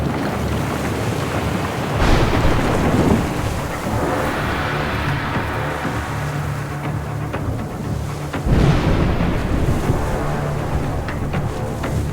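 A stormy sea in the video game A Juggler's Tale, with a steady roar of wind, rain and surging water, broken by two loud thunderclaps about six seconds apart.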